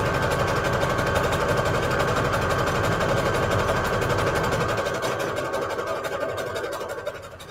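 A sewing machine runs steadily, stitching a long strip of lace onto the bottom of a fabric Christmas embellishment, its close, even whirring buzz slowing and fading toward the end.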